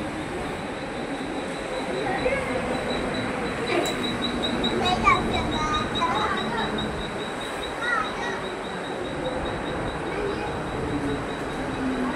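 Steady rumbling hum of a Mumbai local commuter train interior, with a constant whine, faint clatter and voices of passengers and children murmuring in the background.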